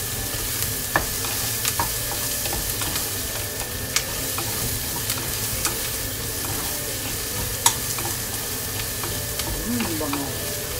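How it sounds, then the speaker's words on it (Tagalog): Chili flakes sizzle in a hot frying pan while a utensil stirs, a steady crackling fry with occasional soft clicks and scrapes, no voices. "Maglalagay muna ako ng chili flakes."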